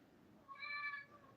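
A single faint cat meow, drawn out and tonal, heard alone in a quiet room.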